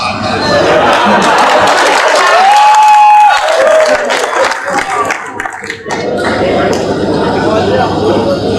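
An audience at a Hindi satirical comedy stage show bursts into sustained applause, a dense wash of clapping that runs the whole stretch with voices mixed in and over it.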